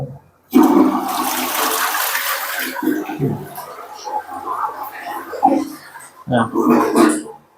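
A toilet flushes in a modest resort bathroom with a rusty tap, the loud rushing water swirling and draining over several seconds while someone speaks briefly and clears his throat.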